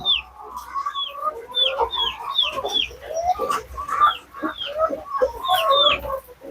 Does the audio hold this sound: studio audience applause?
no